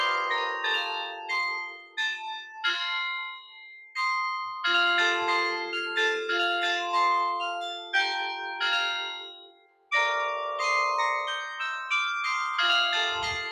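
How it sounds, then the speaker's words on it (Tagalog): Church bells of different sizes ring at Marian Orchard, each with its own pitch, clanging in overlapping clear strikes with long ringing decay, loud and close in bursts of several rapid peals separated by brief pauses, with no talking. "Mga gumagalaw talaga yung kampana."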